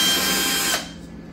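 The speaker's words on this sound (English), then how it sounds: "I'm gonna use my cordless drill." A cordless drill removing screws from an electric water heater cover whirs loudly up close for under a second, then winds down to stop.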